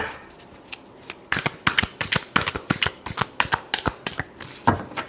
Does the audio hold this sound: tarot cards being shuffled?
yes